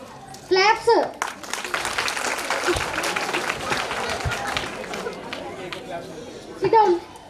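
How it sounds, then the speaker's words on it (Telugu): School children clap and chatter at a Republic Day celebration, scattered applause rising between bursts of a teacher's voice at the start and end, with kids' talk running underneath. "క్లాప్స్."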